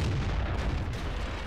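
A heavy, rumbling boom from the SU-14-1 self-propelled artillery gun in World of Tanks, a single dense low blast that fills the short moment with no voice over it.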